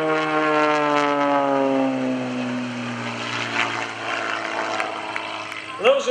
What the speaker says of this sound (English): going to kick this airplane onto knife edge going by Airshow Center.